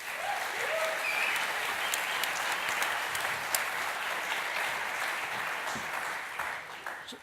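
An audience applauds to welcome a panel at a music industry conference. The clapping is sustained and dense, holding steady before it thins slightly toward the end, with no speech over it.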